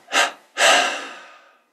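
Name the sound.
exhaling in three breaths during breathing exercise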